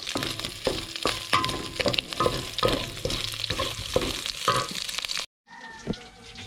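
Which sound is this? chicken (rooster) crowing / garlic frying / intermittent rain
garlic frying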